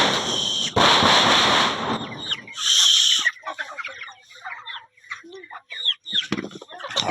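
Domestic chickens on a backyard farm cluck in short, scattered calls after a loud burst of broadband noise, the clucks coming close and irregular over the remaining seconds.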